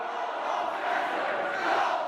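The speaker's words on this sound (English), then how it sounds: "White nationalist Richard Spencer booed from the moment he walked on stage at the University of Florida." A university crowd booing and shouting at a white nationalist speaker on stage, a dense sustained roar of many voices heard from within the hall, steady and moderately loud.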